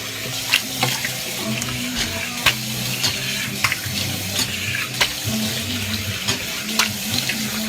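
Tap water runs steadily into a sink while a face is washed with soap, with soft splashes and rubbing over a continuous low hiss; no one speaks.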